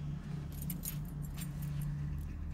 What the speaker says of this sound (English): Grab the keys.